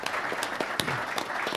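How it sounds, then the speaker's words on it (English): An audience at a sports society talk breaks into a brief round of applause for a newly introduced speaker, a dense patter of claps lasting under two seconds in a room. "Big round of applause, please"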